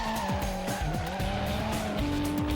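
A car drifts through a corner in a D1-style drifting video game, its engine droning and shifting pitch while tires squeal and skid continuously throughout.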